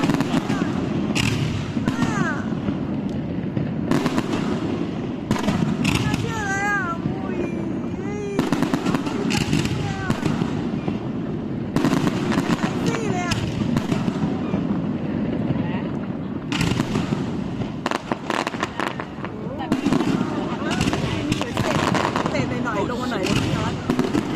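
Fireworks burst throughout a display at Koh Loy, Sriracha, with dense, loud crackling and booming explosions and whistling rockets, while people nearby talk over the bangs.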